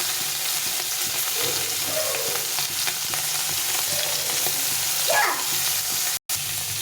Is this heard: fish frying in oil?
yes